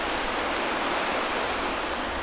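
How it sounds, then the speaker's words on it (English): Near waterfalls in Glynneath, South Wales, a stream rushes close by as a loud, unbroken roar with no voices. "you can probably hear the stream in the background"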